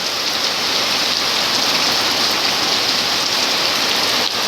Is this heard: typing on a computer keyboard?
no